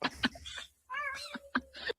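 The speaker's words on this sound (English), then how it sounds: "Cat thought that was solid snow." A cat meows a few times over about two seconds, with tonal, wavering cries up close and loud, one drawn-out call in the middle, and no talking.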